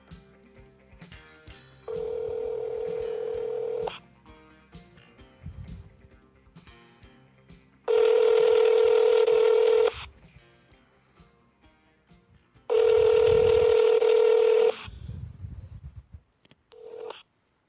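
A telephone is dialed with DTMF tones. Three sustained touch-tone bursts ring out loud and clear, separated by quieter stretches of button clicks and line noise, ending with a short final tone.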